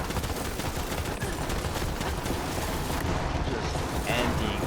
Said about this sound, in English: Just emptying mags into this.